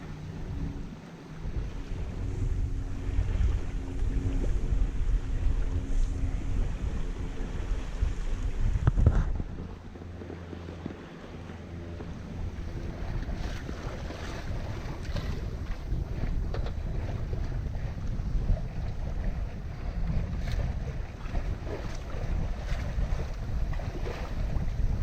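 Sailboat tacking out of a fjord in strong wind, with a steady roar of wind buffeting the microphone, water rushing along the hull and a brief gust-like thump near the middle, continuous throughout with no talking.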